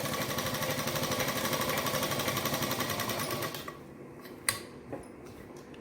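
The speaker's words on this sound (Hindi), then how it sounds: "डबल सिलाई लगाएं।" A sewing machine runs a double line of stitching along the edge of a salwar, whirring in a rapid, steady, close rhythm for several seconds before stopping, followed by a few light clicks of fabric handling.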